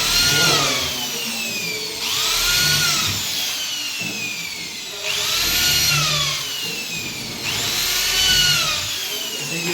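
A power drill drives bolts while a door closer is fitted, in four loud rising-and-falling bursts with a steady whine and brief pauses between, and no talking.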